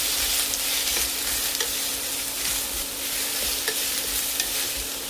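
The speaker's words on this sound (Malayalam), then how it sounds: "പച്ചമുളക്, വെളുത്തുള്ളി, സവാള ഒന്ന് വഴറ്റിയെടുക്കണം." Green chilies, garlic and onion sautéing in hot oil, with a steady, loud, close sizzle and crackle and occasional stirring scrapes throughout.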